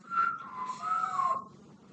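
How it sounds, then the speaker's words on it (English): Clear melodic whistling, a few sliding pitched notes over about a second and a half, close and moderately loud with no talking. "I can whistle inwards and outwards"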